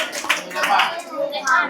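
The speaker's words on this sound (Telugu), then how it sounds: "చప్పట్లు కొట్టాలి." Schoolchildren clap during an interactive session at a government school, a short burst of clapping mixed with children's voices talking over it.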